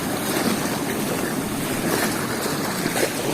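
Fast-flowing water rushes through an irrigation canal in Polonnaruwa, a loud, continuous broadband roar with gusts of wind noise on the microphone and no talking.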